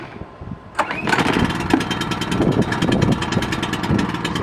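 A Wen 3100 generator engine cranks once near 0.8 s and catches on choke, then settles into a steady, loud, rumbling run close by for the rest of the clip.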